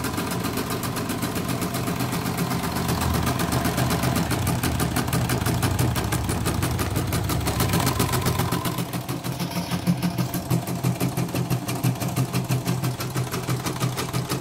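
An embroidery machine at a repair shop in Kebumen, Central Java, runs steadily after servicing with a fast, even mechanical chatter and a low motor hum, loud and continuous throughout with no talking.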